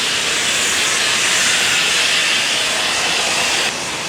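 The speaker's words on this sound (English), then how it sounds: "their steam's making a lot of noise" Loud, continuous broadband hiss of steam venting on a New York City street, steady and close throughout without a break, with no voices over it.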